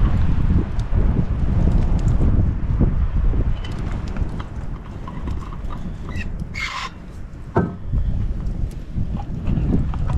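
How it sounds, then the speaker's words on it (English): Strong gusts buffet the microphone with a low, rumbling roar that rises and falls continuously, with a brief faint higher sound in the middle. "Yes, that is very windy."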